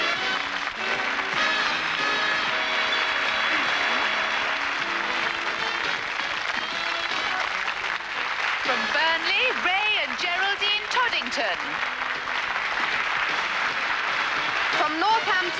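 A 1981 studio game show audience applauding contestants as they are welcomed, with sustained loud clapping and cheering throughout and a host speaking over it partway through.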